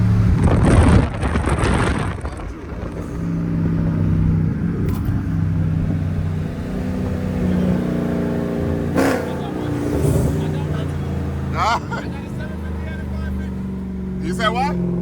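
A 2019 BMW M550i V8 revs and accelerates in a night street race, engine tone rising and climbing through gears with a rumbling, fairly close presence, punctuated by brief bursts of voices talking.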